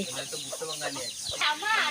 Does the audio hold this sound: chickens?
yes